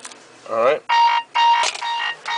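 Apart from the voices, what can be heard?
mobile phone sounding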